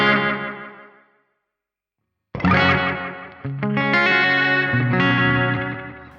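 A distorted, modulated tone fades out, then after a pause chords return with warbling tape-style echo repeats smearing and wobbling behind them, loud and continuous.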